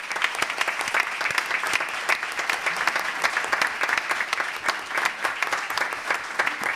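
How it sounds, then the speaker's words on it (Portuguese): A crowd at a public hearing about Rio de Janeiro's Teatro Municipal claps loudly and steadily for several seconds. The applause is dense and continuous, with no voices over it. "Eu queria pedir um aplauso para todos vocês que engrandecem o Rio de Janeiro"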